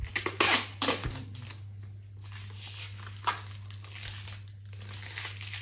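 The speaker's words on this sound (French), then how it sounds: "J'ai déjà enlevé une couche de plastique." Plastic wrapping crinkled and pulled off a trailer lid, with a burst of loud crackling at the start, then softer intermittent rustles over a steady low hum.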